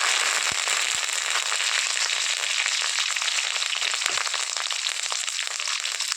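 Curry leaves crackle furiously in hot coconut oil tempering with mustard seeds and garlic for an ivy gourd stir-fry, a loud, dense, continuous sizzle of pops and spits with a few sharper snaps.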